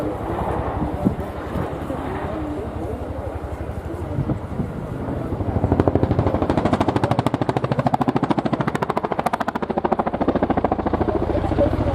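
Chinook twin-rotor helicopter flying at the RIAT air show, a Mark II upgraded with a glass cockpit, its rotor beat swelling into a loud steady rapid chop halfway through, over outdoor crowd and wind noise.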